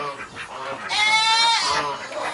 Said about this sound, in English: You can hear all the goats.